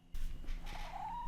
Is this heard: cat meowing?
yes